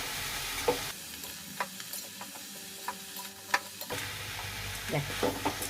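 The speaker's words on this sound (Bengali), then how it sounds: "দেখো পুরোটাতে মশলা মিক্স হয়ে গেল, ওপর নিচে করে দিলাম।" Cabbage and potato curry with spices is stirred in a pan, cooked without water, with sporadic scraping and knocking of a spatula over a quiet sizzle, fairly close and soft.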